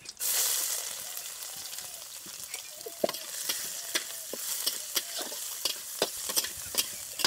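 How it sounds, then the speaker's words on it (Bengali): Chopped garlic, ginger and chili fry in a pan with a steady sizzle, close up, broken by repeated sharp scrapes and taps of a spoon stirring against the pan. "রসুন কুচি, আদা কুচি ও লঙ্কা কুচিটাকে হালকা ভেজে নিয়েছি"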